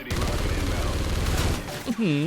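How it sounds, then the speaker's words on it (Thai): Ripper gun in the video game Call of Duty: Ghosts firing full auto, a loud rapid continuous burst of gunfire that stops shortly before the end, with someone talking over it. "ปาดกระสุนหมด ไม่โดนสักนัด"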